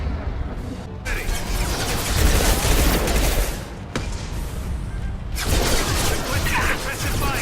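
Sustained bursts of incendiary-ammo gunfire in the video game Mass Effect 2, a loud dense crackling barrage broken by two short pauses, with game combat noise throughout.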